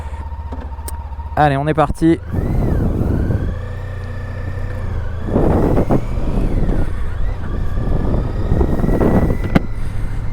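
A 2013 Honda Pan European motorcycle idling with a low steady rumble, then revving and pulling away, the engine note rising and surging under a voice and wind buffeting on the microphone.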